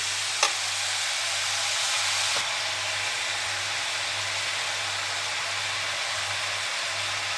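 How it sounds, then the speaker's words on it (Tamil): Steady soft sizzle of food sautéing in a pan on a low flame, a continuous close hiss with a low hum underneath and a couple of brief clicks early on. "சிம்மில் வச்சு ஒரு 10 நிமிஷம் நல்லா வதங்கணும்"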